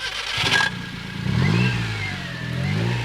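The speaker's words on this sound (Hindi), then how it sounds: "इस तरह से ये बाइक स्टार्ट हो गया है" A homemade motorcycle powered by a car engine cranks and catches, then idles and revs in low rumbling surges, heard close and loud with no talking.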